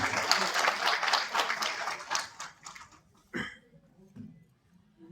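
A crowd applauds loudly, dense clapping that gradually thins and fades out, with a few scattered claps and faint voices at the end.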